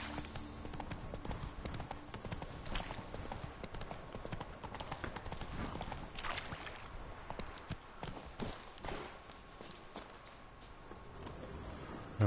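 Hooves of Roach, Geralt's horse in The Witcher 3: Blood and Wine, clip-clop steadily at a gallop across the whole stretch, close and continuous over faint game ambience.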